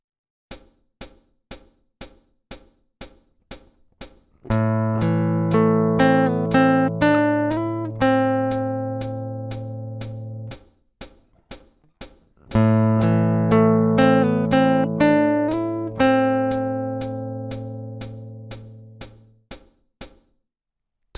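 Picked guitar notes lead into a ringing chord passage from a song, played twice on a left-handed guitar, clear and close with decaying sustain and sparse plucks between.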